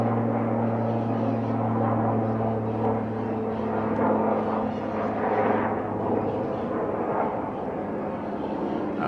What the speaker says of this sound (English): Big old helicopter.